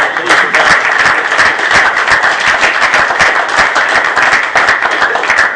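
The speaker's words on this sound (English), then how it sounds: "which rolled in big round of applause" Sustained, dense applause at a city council meeting, with many people clapping steadily and loudly throughout, voices faintly mixed into the crowd noise.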